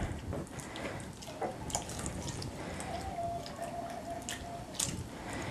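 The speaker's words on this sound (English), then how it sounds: "So we're going to pour slowly to incorporate the ingredients together." Milk poured slowly into a pumpkin pie filling mixture gives a soft, continuous wet trickling and faint liquid splashing, quiet and close, with no talk over it.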